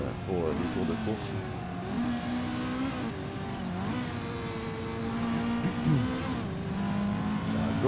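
Racing car engine in a video game revving and shifting pitch through practice laps, a steady droning whine running throughout with rising and falling tones, heard under quiet talk.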